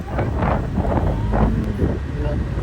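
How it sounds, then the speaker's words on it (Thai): Strong wind buffets the microphone on a hilltop viewpoint near giant wind turbines, a loud continuous roar and rumble with gusty swells throughout, with a person speaking over it. "ลมก็แรงนะเนี่ยดูกระพันยักษ์"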